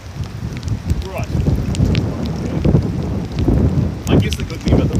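Rain pours down on an open beach in rough weather, a steady dense hiss mixed with gusty wind and low rumbling, with louder surges in the final second or so.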